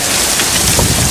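Heavy rainstorm in Virginia pelting a phone held outdoors, a loud, steady broadband roar of rain and wind buffeting the microphone, continuous for the whole moment with no voices.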